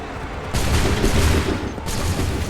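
A dense, rolling volley of massed musket fire from a line of soldiers in Assassin's Creed 3, loud and sustained over battlefield rumble, with a second wave swelling in near the end.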